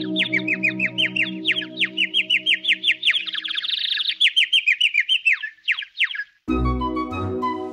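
A white bird sings a rapid series of bright, chirping tweets, close and lively over a soft musical backing, before a brief pause and a new musical sound.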